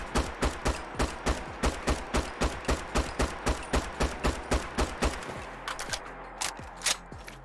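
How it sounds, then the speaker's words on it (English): A SCAR-H battle rifle in a Fallout 4 mod fires about twenty evenly spaced, sharp semi-automatic shots, then goes quiet except for a few metallic clicks and clacks as the magazine is swapped and the bolt is worked back into place. "we do have the proper reload where you actually put the bolt back into place"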